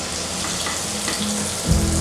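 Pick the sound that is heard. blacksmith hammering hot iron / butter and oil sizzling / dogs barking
butter and oil sizzling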